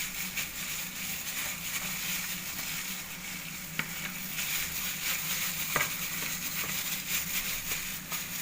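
Chopped spring onions being stirred into a minced chicken and tofu mixture, a steady wet rustling churn with occasional soft scrapes of the utensil against the bowl, close and continuous.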